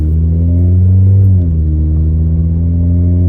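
A 1989 Honda Civic sedan's exhaust drones low and steady while driving, loud and close, with a slight shift in pitch partway through and no voices.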